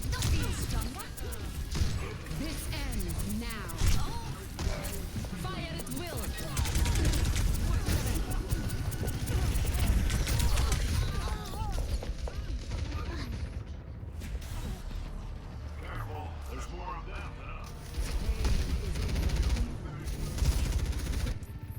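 Video game gunfire, dense bursts of shots and automatic fire with crashes, loud and sustained across the scene, mixed with character dialogue.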